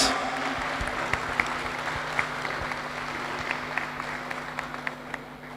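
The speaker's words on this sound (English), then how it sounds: "Give them one more big round of applause." Audience applause at an outdoor cultural performance during an international sports week festival in Curaçao, a steady wash of clapping with a few sharper claps poking through, moderately distant with a low electrical hum beneath.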